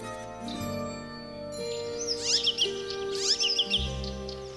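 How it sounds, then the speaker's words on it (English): An icterine warbler sings from birch branches in the taiga, giving quick bright chirps and rapid descending trills, clear and fairly close over soft sustained tonal background music. "An icterine warbler chirps in the branches"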